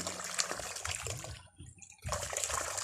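Water gushes and splashes steadily from a hand pump, briefly dropping off before surging back in a strong, close flow.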